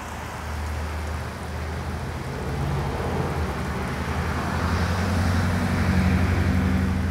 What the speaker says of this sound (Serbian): samo da vam pokažem kako pada kiša ovdje u subtropskim krajevima